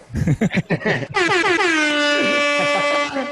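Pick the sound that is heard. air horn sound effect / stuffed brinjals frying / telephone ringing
air horn sound effect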